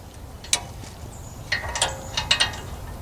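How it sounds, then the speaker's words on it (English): A calibrated breaker bar with a 17mm socket on a Toyota Tundra brake bolt: a few sharp metallic clicks and ratcheting ticks, close and distinct over a low background hum. "So we take our 17mm socket and we use our calibrated breaker bar to tell us the correct torque specs"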